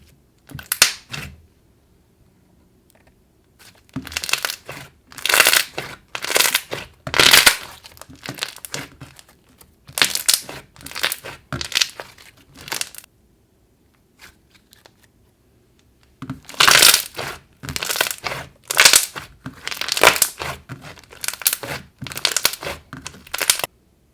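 Thick, glossy bubblegum-scented slime is squished and pressed in bursts, giving crackly, wet bubble-popping sounds with short quiet gaps between handfuls.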